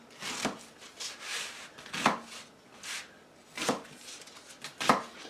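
A knife chops vegetables for sofrito on a cutting board, a series of soft, irregular thuds and scrapes, close and fairly quiet.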